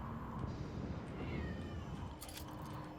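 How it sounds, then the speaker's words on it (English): A cat in the video game Prey meows in a drawn-out, wavering, caterwaul-like cry over a constant background rumble for about three seconds. "Meow."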